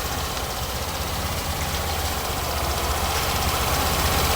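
A taxi engine that has just driven through floodwater idles steadily with a low, rough knocking rumble and constant vibration, close and continuous, with no voices.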